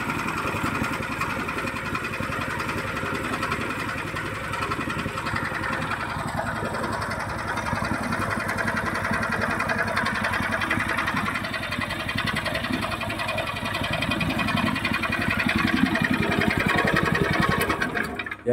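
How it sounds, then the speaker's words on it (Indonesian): A petrol-engine horizontal dough mixer for heavy dough runs with a steady, loud, dense mechanical drone and a constant rattle that grows slightly louder in its second half, with no voices. "Ya itu tadi ya review mesin pengaduk tepung untuk kali ini dipesan untuk adonan berat"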